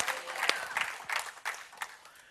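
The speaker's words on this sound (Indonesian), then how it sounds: "Tepuk tangan yang lebih besar" Scattered clapping from a church congregation during a sermon, faint and uneven, with a few sharper claps standing out over the murmur.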